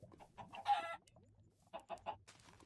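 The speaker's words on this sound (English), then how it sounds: "Come back, chicken! Idiot chicken." Blocky Minecraft chickens cluck in a short run of soft squawking bursts, one sharper flurry early on, then a few scattered clucks after a brief pause, heard fairly close and alone with no talking.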